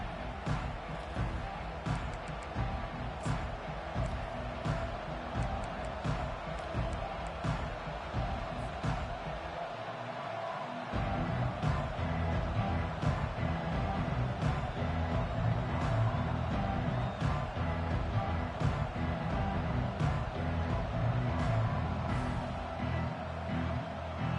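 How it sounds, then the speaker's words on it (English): A stadium crowd at an American football game roars in a dense, sustained wash of noise. It stays loud throughout and swells further about halfway through, with little clear talk on top. "It's early, but this crowd is fired up. Listen to this noise here."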